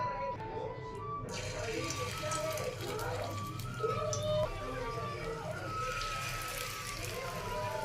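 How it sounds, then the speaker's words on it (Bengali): Mixed vegetable patties (tikki) fry in hot oil, a faint continuous crackle and sizzle like light rain, with a person talking over it. "তেল গরম হয়ে গেছে, আস্তে আস্তে আমি এগুলো সব দিয়ে দেবো।"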